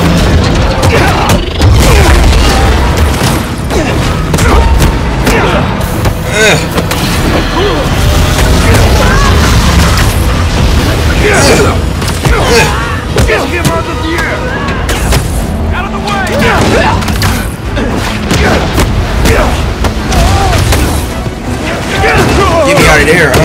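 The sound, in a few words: RPG explosions in Spider-Man 2 video game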